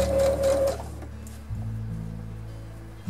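A sewing machine stitches a cardigan's button placket, its motor humming steadily up close, then dropping to a lower, sustained drone partway through.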